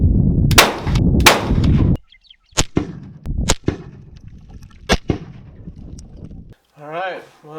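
Rifle fired with Ramshot Magnum powder loads: several sharp, loud cracks spaced a second or so apart, with voices talking in between and a brief whistle-like tone at the end.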